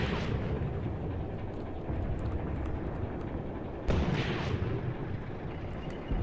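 A tank in the WWII tactics game Graviteam Tactics: Mius Front fires high-explosive rounds, producing heavy rumbling booms over a constant low battlefield roar, with a sharper blast about two-thirds through.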